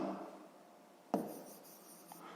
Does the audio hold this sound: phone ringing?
no